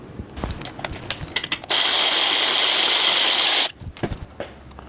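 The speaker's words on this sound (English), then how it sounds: "This is my riveting tool. I'll try to retighten the nut that is already installed in the beam." Riveting tool retightening a rivet nut already set in a beam of a wrecked BMW 540i under repair, one steady loud whirring burst of about two seconds, close by, between quieter handling noises.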